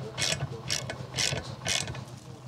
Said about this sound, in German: Die kriegst du mit der Ratsche schlecht fest.